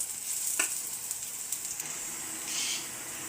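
Shrimp frying in oil in a pan give a steady, quiet sizzle, with a short clatter near the start and a louder burst of hissing late on, nobody speaking.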